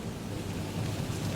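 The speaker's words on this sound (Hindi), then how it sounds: "इतने में बारिश शुरू हो जाती है।" Steady rain falls outdoors at a roadside street food stall, a dense, even hiss with a low rumble beneath it, continuous and moderately loud, with no voices.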